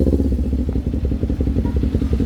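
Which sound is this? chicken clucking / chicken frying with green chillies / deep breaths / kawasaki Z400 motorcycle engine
kawasaki Z400 motorcycle engine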